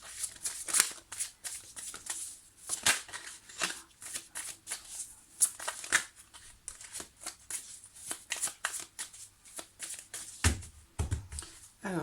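Tarot cards are shuffled by hand for a June 2020 love reading, giving a long run of quick riffling and slapping bursts with short pauses between them and no speech.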